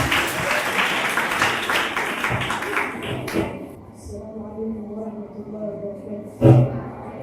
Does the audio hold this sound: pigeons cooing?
no